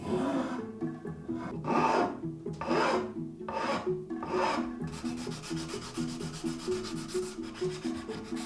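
Steady rhythmic rasping strokes of a file on wood, about one stroke per second at first, then quicker, denser scraping that continues to the end.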